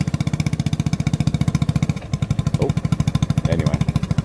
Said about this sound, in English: Idling a little fast.